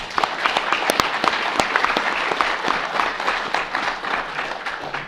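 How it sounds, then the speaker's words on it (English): An audience at an economics summit breaks into applause, a dense burst of many hands clapping from a moderate distance, holding steady for several seconds before thinning slightly. "let's give a quick round of applause for everybody here"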